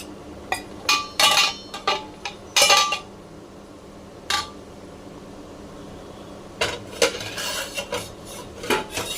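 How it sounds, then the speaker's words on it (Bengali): Pot lid lifted off a pot of boiling potatoes: a string of sharp metallic clanks and scrapes of lid and utensils on the pot, bunched into bursts with quieter gaps, close and fairly loud, without talk. "এবার ঢাকনা খুলে দেখে নেব"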